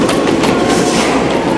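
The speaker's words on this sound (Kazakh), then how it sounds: "Метро станциясы." Metro train running through a Barcelona underground station near Sagrada Familia, a loud continuous rumble with rhythmic clickety-clack of wheels on rails filling the whole stretch without any talk.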